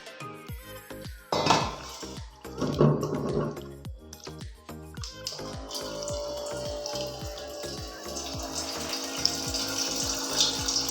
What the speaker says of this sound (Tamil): இப்போ நம்ம வந்து 1 டம்ளர் கிட்ட தண்ணி வந்து சேர்த்துருக்கோம்.